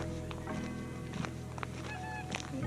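Waterfowl calling from the reeds of a wetland beside the Sile river near Treviso: soft, scattered honks and calls at a distance over a steady low background hum, with no one speaking.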